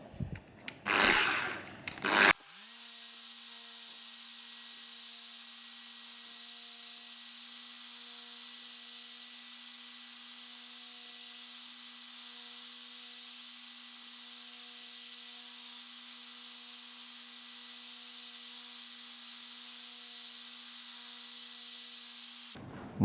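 EVOXA HDF12 mkII polisher running steadily at speed 4, a constant motor whine and hum that holds for about twenty seconds after a brief louder rustle at the start.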